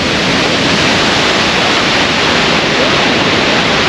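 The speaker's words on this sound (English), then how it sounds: "let's have a look at this waterfall" Skogafoss waterfall in Iceland, a loud, constant roar of falling water heard close up, broad and unbroken, with no voices over it.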